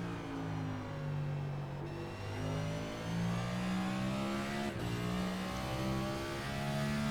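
The engine of a NASCAR NextGen car in a sim racing game at Martinsville, rising and falling in pitch as it revs, with a few sharp downshifts breaking the steady, fairly quiet engine drone.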